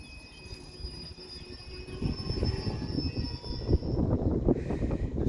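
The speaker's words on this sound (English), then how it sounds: "Now that's actually stopped at a red signal to allow another train to come past it." A train near Northampton rumbles and clanks on the rails, getting louder and steadier with faint high whines, heard alone up close.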